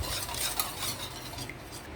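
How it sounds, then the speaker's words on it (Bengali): Two beaten eggs being whisked steadily in a bowl, a continuous close scraping and clinking of utensil against the dish, with no talk. "এভাবে এখানে আমি দুটো ডিম ফেটিয়ে নিয়েছি। এটাকে ভালোভাবে মিশিয়ে নেব।"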